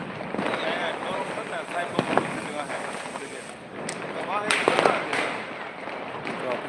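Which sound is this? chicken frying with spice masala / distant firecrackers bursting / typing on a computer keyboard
distant firecrackers bursting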